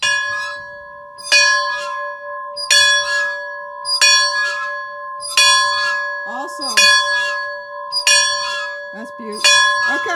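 The original bell of a 1909 church, now converted into a home, rings out in eight loud, evenly spaced strikes, each leaving a bright sustained hum that overlaps the next, with no voices.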